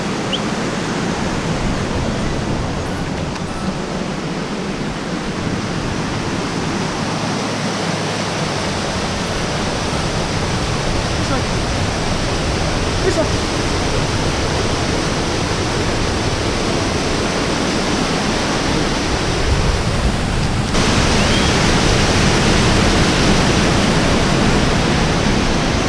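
Waterfalls roar as a dense, steady wash of falling water, loud and close, filling the scene without pause and with no voices over it.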